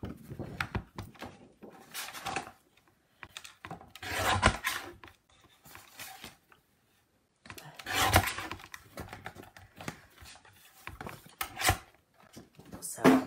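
White card is cut for card making with a series of dry scraping, slicing strokes that come in short bursts separated by quiet pauses, close and fairly soft.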